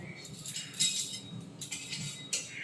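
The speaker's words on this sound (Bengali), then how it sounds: "ভাজা হয়ে গেছে, এবার আমি ঢেলে নেব" Roasted whole spices tip out of a pan, with light rattling and clinking in a few separate bursts, close and fairly quiet.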